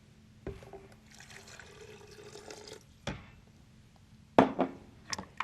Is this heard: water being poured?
yes